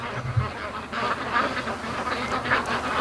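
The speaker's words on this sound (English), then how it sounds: "They're in that swimming quack sound." Domestic ducks quacking as a group while swimming home through a swamp, a dense, buzzing chorus of overlapping quacks that hums like a hive of bees, close and steady throughout.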